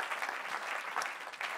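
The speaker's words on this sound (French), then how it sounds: "Ça, on peut applaudir, c'est fantastique." An audience in a church gathering breaks into brief, dense applause, with many hands clapping close together in an even wash of sound.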